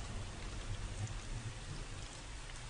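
Sudden rain shower as a sound effect in a horror radio drama, a steady dense hiss of falling rain and drops on surfaces, fairly quiet and continuous throughout with no voices.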